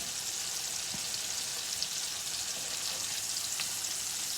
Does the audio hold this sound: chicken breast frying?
yes